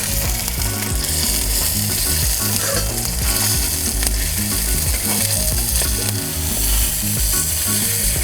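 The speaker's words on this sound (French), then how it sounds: "une fois que la poêle est bien chaude, on met la volaille côté peau." Chicken breast searing skin-side down in a very hot pan, a loud, dense, continuous sizzle and crackle that stays strong and close for the whole stretch.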